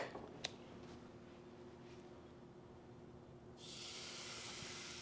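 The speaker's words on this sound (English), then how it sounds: "We got a good little sizzle there." A steady, bright sizzle of steak searing in a 600-watt electric mini skillet swells up and holds, close and moderately loud, after a faint tap and low room hum.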